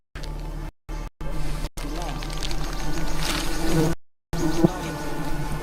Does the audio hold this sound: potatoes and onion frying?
no